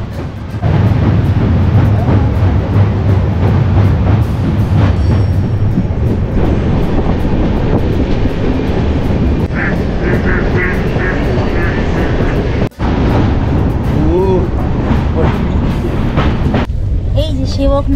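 A train crosses the Gulma railway bridge above the Mahananda River in North Bengal, making a loud, steady rumble and rattle of wheels and carriages that lasts throughout, with a voice heard over it.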